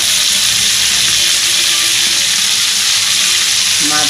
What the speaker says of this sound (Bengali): মাছগুলো সব আমি ঠিক এরকম করে ভেজে